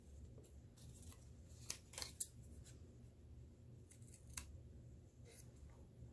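Scissors cut paper for a circled flower craft, a handful of faint, close snips spaced irregularly over a low background hum, with no one speaking.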